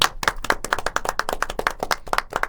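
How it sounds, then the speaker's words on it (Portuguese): A small group claps for Marta at a gathering, close and distinct handclaps in a quick, uneven rhythm, individual slaps clearly separated rather than blending into a wash, with no talking over them. "Uma salva de palmas para a Marta"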